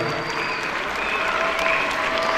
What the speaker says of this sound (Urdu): ویل ڈن، بھرپور تالیوں کی دعوت سے بچوں کی حوصلہ افزائی کریں۔